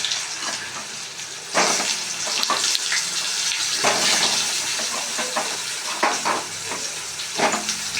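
Boiled vegetables stir-fried in a pan for a vegetarian festival meal, a steady close sizzle with spoon scrapes and stirring clatters breaking through at irregular moments, no talking.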